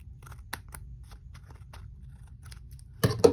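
Scissors snip gold trim for a handmade St. Patrick's Day card, with a few faint, quiet cuts and then a louder, closer crunching snip at the end.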